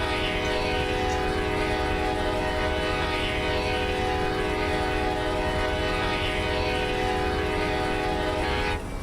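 Amtrak Auto Train in the Run 8 train simulator game gives a continuous loud rumble with a sustained tonal horn blast and rail noise throughout, no talk.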